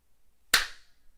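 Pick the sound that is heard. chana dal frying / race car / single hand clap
single hand clap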